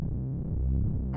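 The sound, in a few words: cinematic drone synth with modulated FM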